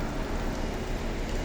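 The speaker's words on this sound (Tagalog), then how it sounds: "So ito, umuulan na." Light rain falls in Doha, Qatar, under a dark sky, giving a steady, even, soft broadband hiss with no separate drops standing out and no voices.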